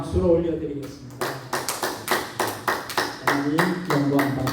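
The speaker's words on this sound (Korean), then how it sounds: "영광과 감사의 박수를 올려드리겠습니다." A church congregation claps in a rhythmic, evenly spaced beat of sharp, loud strikes. A voice speaks briefly before the clapping begins.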